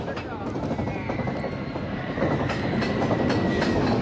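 Front-row ride on the Runaway Train roller coaster at Six Flags Great Adventure, a steady loud rumble of wheels on track with rattling clatter that surges louder partway through, no talking.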